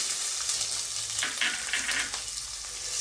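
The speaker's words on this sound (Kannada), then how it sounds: "ಈರುಳ್ಳಿ ಸ್ವಲ್ಪ ಫ್ರೈ ಮಾಡ್ಕೊಂಬಿಡಿ ಸ್ವಲ್ಪ ಒಂದು ಲೈಟಾಗಿ ಫ್ರೈ ಆಗಲಿ" Onions fry in a hot pan over popped mustard seeds, a close continuous sizzle with brief surges as they are stirred.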